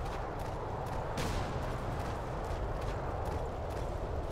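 Scattered gunshots crack at a distance over a constant low background rumble in the video game Battlegroup 42, with a few sharper bursts standing out.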